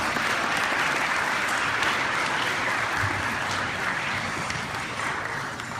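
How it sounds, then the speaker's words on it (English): Lecture-hall audience at a STEM event applauding before the next speaker, a thick, continuous burst of clapping close and loud, easing slightly near the end. "Another round of applause, please."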